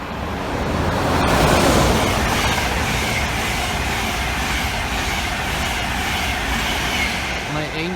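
A passenger train passes through Grantham station on the London King's Cross to Edinburgh Waverley line, a loud sustained rumble of wheels and carriages rising then holding steady throughout, close by on the platform.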